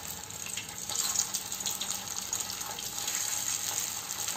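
Pieces of yellow basella are shallow-fried kebab-style in hot oil, giving a steady, bright sizzle that hisses on without a break and with no voices.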